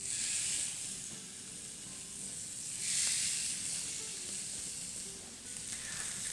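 Pork chops laid on a hot grill wiped with grapeseed oil give off a loud, steady, close sizzle that swells briefly as another chop goes down, with no talk.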